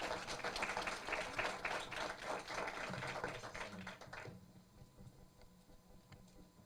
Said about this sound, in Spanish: Podemos darle un fuerte aplauso a nuestro ponente.